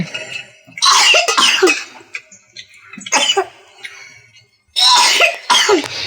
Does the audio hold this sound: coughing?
yes